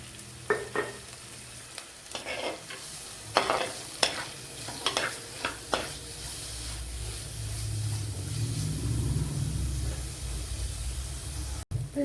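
Sliced onion sautéing with salt in a pan for a Kera Choora (tuna) fish curry, a steady close sizzle with a run of sharp scraping stirs early on, then a thicker, louder frying hiss.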